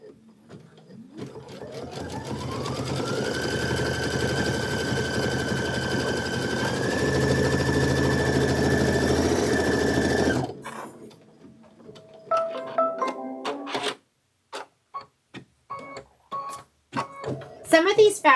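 An embroidery machine stitches a placement line on quilt fabric, a loud steady whirring hum with a rising pitch that runs for about ten seconds, then stops, followed by scattered clicks and handling sounds.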